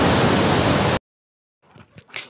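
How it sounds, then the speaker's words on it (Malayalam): The Vazhachal waterfall, running strong, gives a dense, steady roar for about a second before cutting off abruptly. Silence follows, then faint indistinct sounds. "നല്ല കുത്തിയൊഴുക്കും നല്ല ശക്തമായ വെള്ളമുണ്ട് കേട്ടോ"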